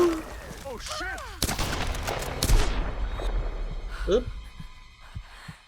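Shotgun blasts ring out in the Tomb Raider video game, two loud sharp booms a second apart with a long decaying tail, amid game noise and a few short vocal yelps.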